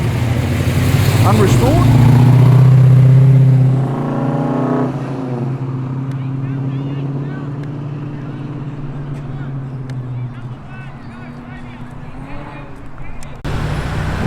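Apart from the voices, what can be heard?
Porsche and Audi S3 driving past after car show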